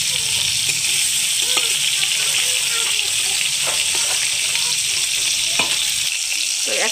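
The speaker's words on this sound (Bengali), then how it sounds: "কড়াই ছোটো বলে কিন্তু অল্প অল্প করে মাছ ভেজে নেব।" Chanda fish fry a few at a time in hot oil in a small kadai, making a dense constant sizzle with occasional stirring scrapes, close and loud. Someone talks over it.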